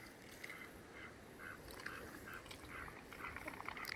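Free-range ducks dabbling and filtering through mud beside a strawberry farm, soft faint quacks and wet splashy nibbling over a steady outdoor hiss.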